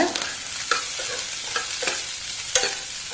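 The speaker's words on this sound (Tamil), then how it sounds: "இப்போ இதுக்கு கூடவே கொஞ்சமாக புளி இப்போ இதையும் சேர்த்து லைட்டாக வதக்கிக்கோங்க" Green chilies, garlic and tamarind frying in a pan, a continuous sizzle broken by several spatula scrapes and stirring strokes, close and fairly loud.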